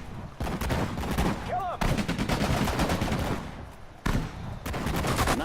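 Gunfire in Sudden Strike 4 on PS4 during the Battle of Bataan, loud sustained bursts of rapid shots with brief gaps between volleys and a voice faintly underneath.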